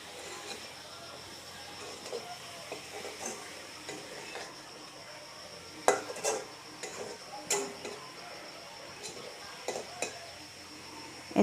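A spoon stirs a pot of Naga-style fish curry with tenga, its lid just lifted, giving soft irregular scrapes and clinks with a faint simmer, quiet and close, with no talk.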